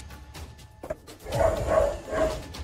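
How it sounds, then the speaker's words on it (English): Dogs in a residential neighborhood bark from a distance, first a couple of sharp isolated yaps and then a run of repeated barking, fairly faint over low background rumble. No voices are heard. "Some of the dogs in his neighborhood are going crazy"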